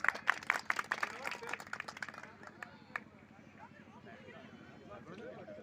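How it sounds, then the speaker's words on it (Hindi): At a Hindi poetry gathering in Bilhaur, an audience gives a burst of clapping that is strong at first and thins out within a couple of seconds, leaving a faint murmur and low background hum. "जोरदार तालियों से स्वागत किया जाए।"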